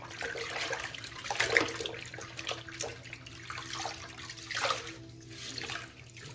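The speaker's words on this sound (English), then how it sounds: "let's give it a rinse off and see what she looks like" Water splashes and runs as a face is rinsed after a straight razor shave, coming in uneven surges of splashing and trickling over a faint background hum, close by and moderately quiet, with no voices.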